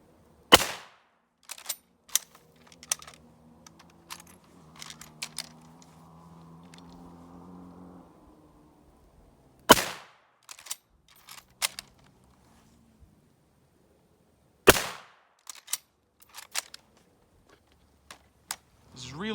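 Sharp rifle gunshots from a Mauser K98k and a Type 38 Arisaka ring out at an outdoor range: three loud, widely spaced shots, with smaller clicks of bolt handling and faint rustling between them.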